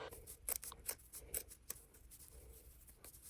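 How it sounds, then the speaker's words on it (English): Scissors snipping through the thick serged edge of a denim skirt, several crisp close cuts in quick bursts followed by quieter rustling of the heavy fabric. "What I decided to do was to cut off this serged edge."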